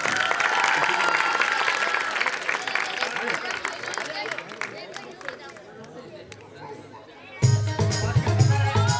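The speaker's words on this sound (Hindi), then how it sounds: "जोरदार तालियां होनी चाहिए।" Audience applause and crowd chatter at a stage drama, a dense wash of clapping mixed with murmuring voices that thins out toward the end before a sudden louder burst with voices over it.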